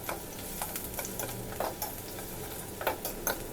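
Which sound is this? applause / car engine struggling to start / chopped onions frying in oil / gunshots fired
chopped onions frying in oil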